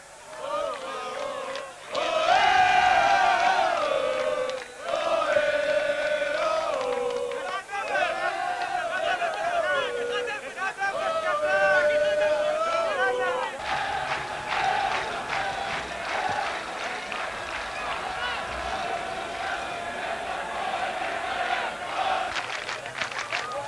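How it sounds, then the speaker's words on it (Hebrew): A small crowd of Hapoel Tel Aviv football fans chants loudly in the stadium at a 1988/89 match against Bnei Yehuda. Rhythmic sung chants rise and fall over a background of crowd noise. "הנה בצד שמאל שלנו קהל לא גדול של הפועל תל אביב, קהל מאמין שהולך עם הקבוצה הזו גם בימים קשים"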